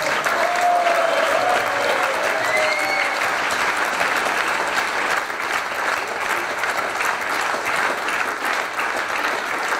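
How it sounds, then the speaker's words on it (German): Dense, steady applause fills a hall at a Basel-area Fasnacht evening in Ettingen, a big ovation for the service and kitchen staff, with a few brief whistle-like tones near the start, loud and sustained throughout. "im Service und der Küche einen ganz dicken Applaus"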